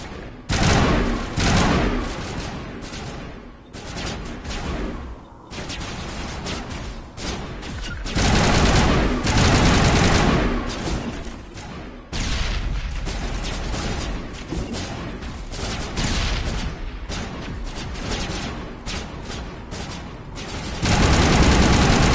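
Sustained gunfire in the video game Mass Effect Legendary Edition: dense rapid bursts of automatic shots and booming impacts, loud and continuous with brief pauses, no talk.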